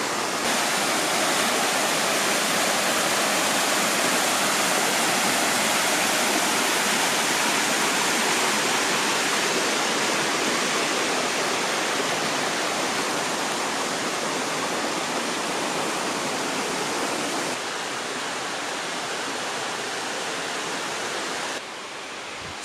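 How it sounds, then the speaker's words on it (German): A small waterfall in a gorge stream gives a steady, dense roar of falling water, close and loud and unbroken for the whole stretch, easing slightly in level toward the end. "So, ein Wasserfällchen da, einer direkt nebendran."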